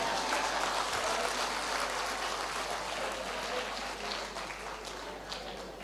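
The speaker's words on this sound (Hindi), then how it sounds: "उन दुखियारी लोगों ने ताली बजाई" Applause from an audience at a Hindi spiritual talk on family life, a continuous wash of many hands clapping at a moderate distance that holds steadily and fades slightly toward the end.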